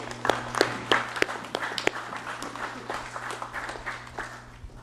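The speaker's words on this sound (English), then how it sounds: "Please, let's give them a round of applause." Scattered applause for citizens seated in the gallery of a council chamber, with sparse, uneven claps over a steady low hum, fairly quiet and thinning out.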